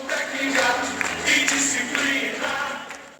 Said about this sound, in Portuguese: Se a torcida síria ainda não aprendeu o hino, sem problemas, as palmas resolveram.